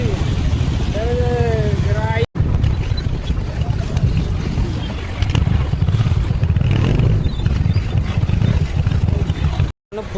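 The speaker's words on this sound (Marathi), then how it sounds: "तर मित्रांनो जाम ट्रॅफिक लागले" Heavy traffic jam on a road with motorcycles, a dense roar of engines and wind buffeting close by, with a few short horn-like tones early on and people talking through it.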